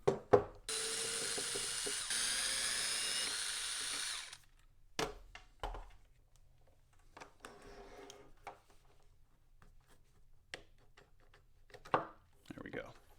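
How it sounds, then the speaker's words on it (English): A power drill backs screws out of the plate on a Kraton 8S EXB RC car, a loud steady whir lasting about four seconds, then a few short bursts and clicks with quieter handling noise and some speech. "So we're going to remove these 3 screws here, here, and here, and then this plate will come right off."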